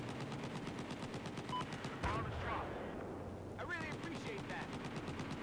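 Rapid machine-gun fire rattles steadily in a Battlefield match, a dense rhythmic stream of shots with a heavier blast partway through, while players talk over the gunfire.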